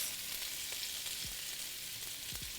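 Home fries stirred gently in a frying pan, with a steady sizzle throughout and a few soft scraping strokes of the utensil against the pan.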